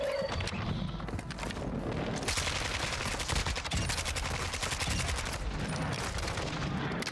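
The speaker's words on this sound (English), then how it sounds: "he's shooting me through a bush and I can't even see him" AI enemies in Call of Duty DMZ fire a sustained stream of rapid gunshots, loud and close, with dense bursts running through the whole stretch.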